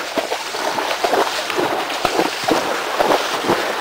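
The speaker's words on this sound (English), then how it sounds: "as you can hear, the water is quite deep" A Percheron horse wades through deep water at a trail crossing, its legs churning and splashing in a steady, rhythmic series of close, loud sloshes with broadband wash throughout.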